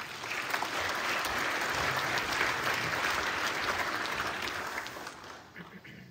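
A seated audience applauds a former senator after his introduction as the final speaker at a mathematics lecture, steady dense clapping filling the room for about five seconds before thinning out at the end.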